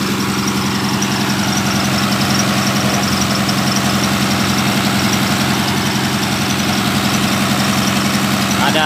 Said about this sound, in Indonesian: Ada 2 mesin pompa, tapi yang satunya masih perbaikan ya.